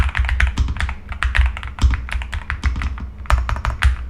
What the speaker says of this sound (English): you can literally enjoy your typing experience